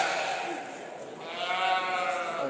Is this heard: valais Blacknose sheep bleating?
yes